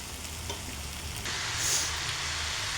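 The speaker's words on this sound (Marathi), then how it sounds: "कांदा छान परतला आहे आता मटकी टाकून घ्यायची" Sprouted moth beans tipped into a pan of sautéed onion set off a sudden, louder burst of close sizzling frying that carries on steadily after a quieter sizzle at the start.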